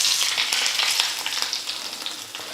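Mustard seeds and curry leaves sizzle and pop in hot oil, a close, bright hiss dotted with sharp crackles that slowly ease off over a few seconds.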